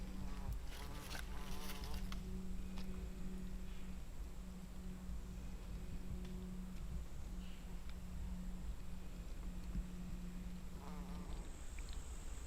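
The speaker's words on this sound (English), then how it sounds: "See the bee down in there?" A bee buzzes faintly among plants along a trail at Governor Dodge State Park, a thin intermittent drone with a few brief louder passes over quiet outdoor background.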